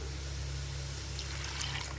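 Water pouring into a pan of peas with a ground paste of chili and ginger, a steady soft trickle over a constant low hum, with no one speaking.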